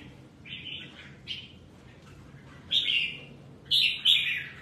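A songbird gives a few short, high chirps in separate bursts, the last two louder, over a low steady background rumble.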